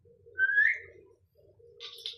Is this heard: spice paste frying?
no